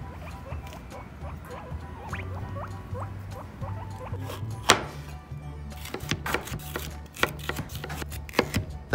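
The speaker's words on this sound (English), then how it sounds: "I think they hear Alex cutting their food" A knife chops bell peppers on a board in a quick series of sharp, close taps, with small squeaking animal calls heard earlier alongside a low repetitive hum.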